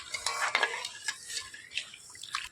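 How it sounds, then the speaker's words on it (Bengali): Stirring milk as it boils in a pot, a utensil scraping and clinking against the pot's sides in quick, irregular strokes, close by with a faint sizzle beneath and no voices. "এবার নাড়াচাড়া করে আমি দুধটাকে খুব ভালো করে ফুটিয়ে নেব"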